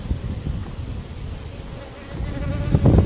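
Honey bees buzz around an opened hive in an apiary, a dense, continuous close-up drone of many insects that swells louder near the end, with no talk.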